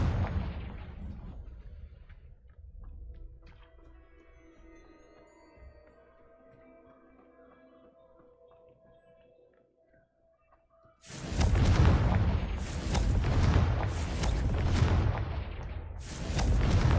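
Confringo fire spell explosions in Hogwarts Legacy, a fading blast and rumble followed by quiet tones, then a loud series of booming bursts in quick succession, close and heavy.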